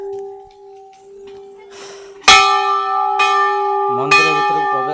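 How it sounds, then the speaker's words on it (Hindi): A temple bell rings out loudly, struck sharply three times with bright metallic clangs that ring on and overlap, following a quieter stretch with a faint steady tone; a voice briefly joins near the end. "घंटी बजे देले"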